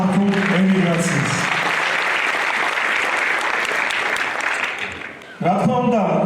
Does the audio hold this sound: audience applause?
yes